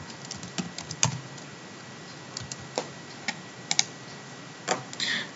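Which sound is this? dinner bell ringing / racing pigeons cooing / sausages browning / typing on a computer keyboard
typing on a computer keyboard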